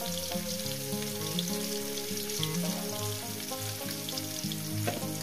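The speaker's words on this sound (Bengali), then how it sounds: "পেঁয়াজ কুচোটাকে দিয়ে আমি সুন্দর করে ভেজে নেব।" Chopped onion frying in a pan for a Bengali katla fish cashew-poppy seed dish, a steady close sizzle over background music with a melodic line, no talking.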